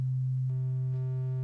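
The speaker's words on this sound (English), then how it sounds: "So we've got a sine wave," A pure, steady sine tone from a WonkyStuff core1 synthesizer oscillator hums alone, with a second higher tone joining partway through.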